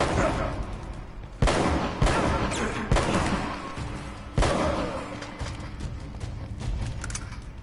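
Gunfire in the Uncharted video game, played on hard difficulty: several sharp, loud shots burst out at irregular intervals over dense, continuous in-game action noise.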